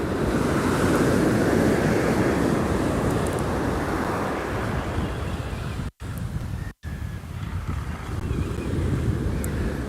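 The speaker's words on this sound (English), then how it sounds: "the line's bowed and the waves here are getting it" Ocean surf washing onto an Australian beach during surf fishing, a loud, continuous rushing wash that swells early, then eases with a couple of brief dropouts before building again; no talking.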